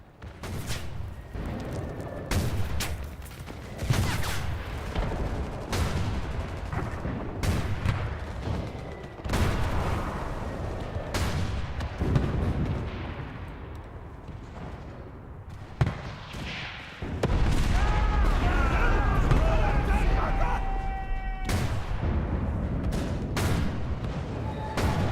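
Artillery barrage in the World War II game Enlisted: a long run of booming blasts and sharp gunfire cracks, some close and heavy, others distant, rumbling on continuously with no talk.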